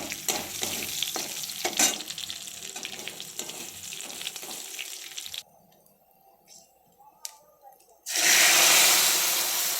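Loud sizzling and crackling of tempering spices for dal hitting hot oil in a pan, a quieter pause, then a sudden intense sizzle burst.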